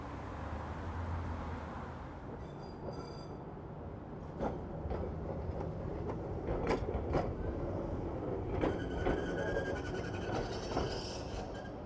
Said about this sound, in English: Here comes the tram, 611.